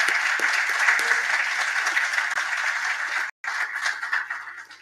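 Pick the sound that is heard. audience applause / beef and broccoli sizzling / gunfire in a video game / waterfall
audience applause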